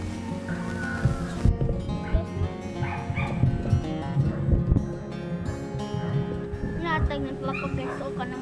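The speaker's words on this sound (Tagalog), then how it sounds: "Mga aso namin guys, nakalabas." Pet dogs let outside bark, yip and whimper repeatedly at close range amid household noise and people talking.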